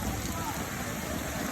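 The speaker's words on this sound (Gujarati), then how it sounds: "જળબંબાકાર વરસાદ પડે છે" Heavy rain pours down on a flooded street in Surat, a dense, constant hiss and roar that fills the whole moment at close range.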